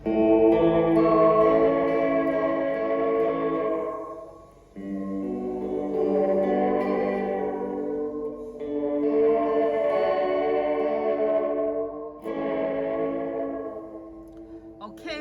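A guitar passes through a Fender Reflecting Pool pedal set for delay with heavy distortion and bucket-brigade artifacts, giving sustained, echoing, chorus-like chords in four long swells, each fading before the next.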